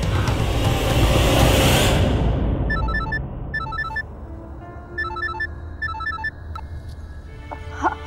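A mobile phone ringtone for an incoming call chirps in quick repeating electronic bursts after a loud rushing noise fades out, the pattern cycling several times at moderate volume.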